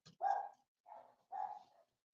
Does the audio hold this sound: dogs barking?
yes